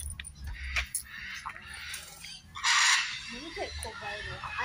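Birds at a park, including small parrots, give loud harsh screeching calls with scattered chirps over a noisy outdoor background, while people talk nearby.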